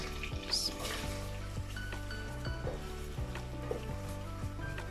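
Sliced onion sizzles in hot desi ghee in a pan for a restaurant-style daal, a steady close frying hiss with occasional light clinks and stirring scrapes, no talk.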